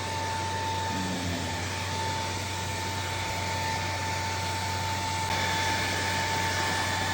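A hair blow dryer runs steadily on straightened hair, with a constant whooshing roar and a faint whine, continuous and close throughout.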